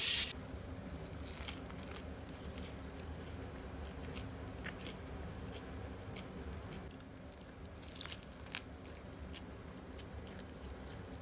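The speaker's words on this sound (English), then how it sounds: "Okay, I think I'm gonna start with the soft shell crab bun." Soft, quiet bites and chewing on a soft shell crab bao bun with sauce, faint squishy mouth sounds close up with no talking.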